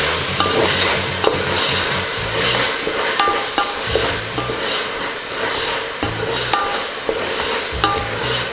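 Onions, coriander and mint sauté in oil in a pan for beef biryani, a steady close sizzle broken by repeated scraping strokes of a spoon, with no talk.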